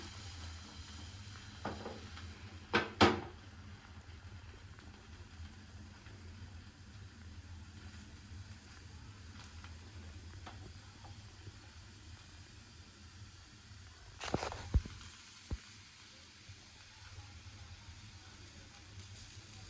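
Patishapta pitha batter spreads across an oiled pan with a soft, steady sizzle, broken by two brief louder scraping clatters of utensil on pan.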